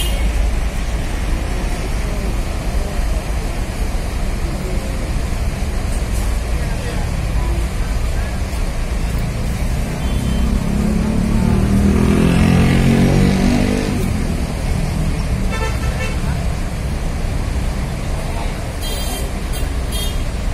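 Bus fleet departing Tanjung Priok terminal bound for Madura, a continuous engine and traffic rumble that swells as a bus pulls past, with a brief horn toot near the end and voices in the background.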